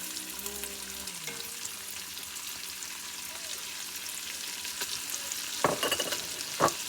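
Onions cooking in a pan with rendered fat for corn chowder give a steady close sizzle and fry hiss, with occasional utensil stirs and scrapes toward the end and no talking.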